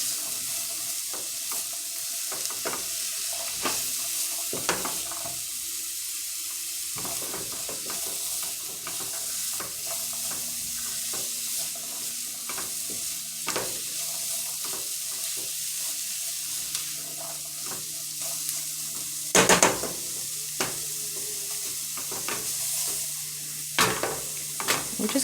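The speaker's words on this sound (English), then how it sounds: "We're just gonna let those saute in there for about a minute." Chopped onions sauté in a pan, a continuous close sizzle broken by frequent stirring scrapes and occasional utensil clicks against the pan.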